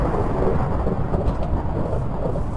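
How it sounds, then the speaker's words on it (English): Rumbling thunder from lightning bolts in a survival video game, a loud continuous low roll with rain-like hiss over it, no talking. "those lightning bolts are meant for me"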